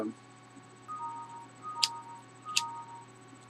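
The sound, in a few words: ticking and dinging of a counting invention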